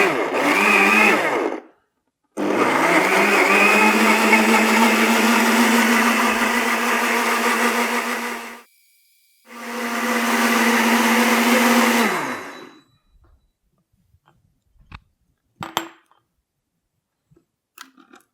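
A ViDiA vacuum blender pulses apple and water in three loud, close bursts of high whirring motor noise separated by short pauses, followed by a few faint clicks and knocks of handling.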